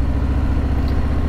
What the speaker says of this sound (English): you can hear the bike and me revving it ever so slightly